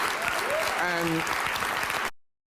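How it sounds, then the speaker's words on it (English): Studio audience at a talk show clapping in a dense, steady round of applause that fills the clip before cutting off abruptly, with a brief voice over it. "they're clapping for that?"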